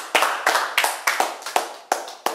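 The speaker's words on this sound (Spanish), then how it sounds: "Un aplauso." Seven or eight sharp, evenly spaced hand claps, loud and close, each with a short room ring, in a steady rhythm with no talk.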